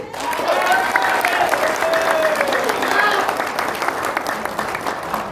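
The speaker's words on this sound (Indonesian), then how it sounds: "Beri aplaus buat Bang Erwin." An audience claps together at a motivational seminar, a dense burst of applause that stays loud and steady for a few seconds with no voices over it.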